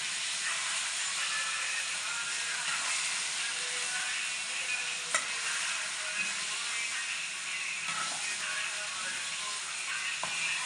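A paste of tomato, garlic and ginger stirred in a hot pan gives an even, hissing sizzle throughout, with a few faint clicks of the utensil.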